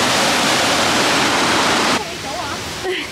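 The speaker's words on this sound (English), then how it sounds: "you can hear the waterfall and it's literally right here" A waterfall near Hilo on Hawaii's Big Island roars close by as a loud, steady rush for about two seconds, then drops to a softer wash while a voice speaks over it.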